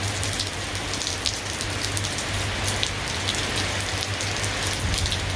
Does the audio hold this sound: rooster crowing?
no